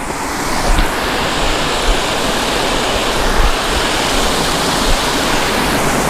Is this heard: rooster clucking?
no